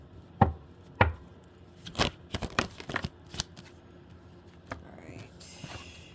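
Tarot cards shuffled by hand, with a few sharp taps and riffling flutters of the deck, close and quiet in a still room.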